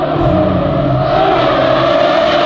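A loud car engine at a nighttime car meet, a steady, sustained roar that fills the whole clip, with no talk over it.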